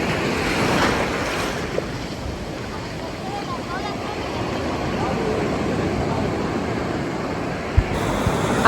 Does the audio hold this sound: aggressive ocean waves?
yes